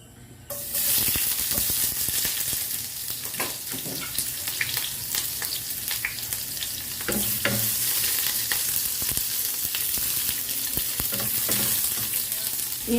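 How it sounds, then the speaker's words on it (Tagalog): Onion and garlic hit hot cooking oil and erupt into a loud, continuous sizzle that holds steady with scattered crackles and pops, close up and without talk. "Igisa natin ang onion at garlic."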